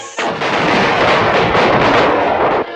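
Loud, continuous cartoon blast as rockets fastened to a sedan chair explode, a dense roaring burst that starts abruptly, holds steady for over two seconds, then cuts off.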